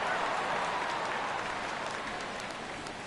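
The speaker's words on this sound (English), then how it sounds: "Rain continues to fall here in the 6th" Steady rain falls on a baseball stadium during the sixth inning of a Pirates versus Cubs game, a dense, even hiss that holds loud and constant throughout with no voices over it.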